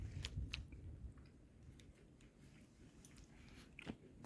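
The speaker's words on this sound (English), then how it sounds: "Just munching on my second half of my breakfast" Someone munching breakfast on a hiking trail on the Appalachian Trail, with close, quiet crunchy bites and chewing in irregular bursts over faint outdoor background.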